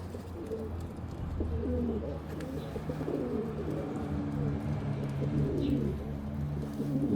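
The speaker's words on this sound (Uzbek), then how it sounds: "Ko'z jiyagi o'ta kuchli kaptar bo'ladi mana shu kaptarlar." Pigeons with prominent eye rings coo softly and repeatedly in a loft, low rolling calls layered over a quiet, steady background hum.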